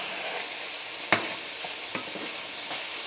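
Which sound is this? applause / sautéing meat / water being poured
sautéing meat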